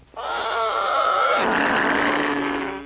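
A deep, sustained roar like a big cat's, loud and close, rising quickly and rumbling on for a few seconds with no other sounds.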